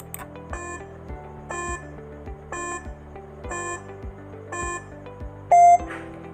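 A quiz countdown timer in a tutorial beeps in a steady, evenly spaced rhythm of clear electronic tones, ending in a longer, louder final tone, with no talking.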